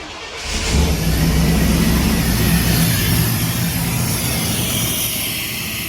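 An old Chevrolet Suburban's engine cranks and catches right after the start, then settles into a steady, loud idle that fades slightly toward the end. A fuel pressure gauge is hooked up and the fuel line leaks a little.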